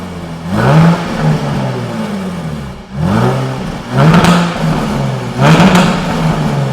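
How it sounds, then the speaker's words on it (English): A Jaguar F-Type V6 S sports car engine revs repeatedly, each loud throttle blip rising then falling back to a deep idle, close and powerful. "start the vehicle and show you how the V6S sounds, because it does sound tremendous"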